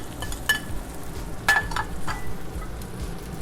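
Beef chow fun noodles with green onions stir-fried in a pan, with a low steady sizzle under a few sharp utensil clinks and scrapes against the metal, close and moderately loud.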